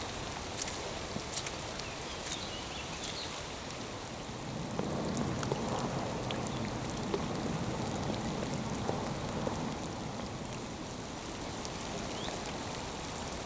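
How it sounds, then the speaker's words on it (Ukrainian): Steady hiss of rain falling on a surface, growing a bit heavier midway, with scattered drops and no voices. "злива є злива"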